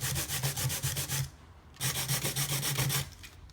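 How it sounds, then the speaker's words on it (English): Sandpaper rubs back and forth on a Mini 4WD rear bumper in quick even strokes, two bursts of rhythmic rasping close up with a short gap between them. "So just put on sandpaper and starting to trim"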